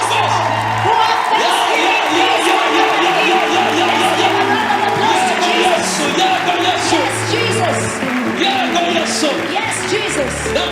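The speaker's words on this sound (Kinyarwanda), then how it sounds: "amashyi duhagaze" A standing church congregation claps steadily and cheers in a dense, continuous wash of applause with whoops and shouts. The crowd is loud and sounds close, and voices call out through the clapping.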